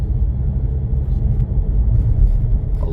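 Car driving south along a road on Captiva Island after Hurricane Ian, a steady low engine and tire rumble heard from inside, continuous and fairly loud with no talk.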